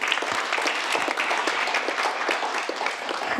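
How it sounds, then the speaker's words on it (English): Attendees at the Geneva Peace Week 2021 closing ceremony give a sustained round of applause, an even wash of many hands clapping at moderate volume throughout. "let's give a round of applause for all of you attendees who came to Geneva Peace Week"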